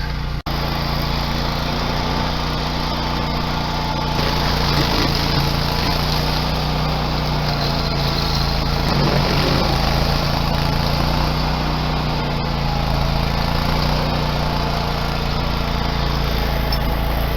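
A stump grinder chews through large rotten tree stumps during a 1905 cottage restoration, a loud, steady engine roar with a gritty grinding layer that swells and eases while it cuts, close and continuous with no talking.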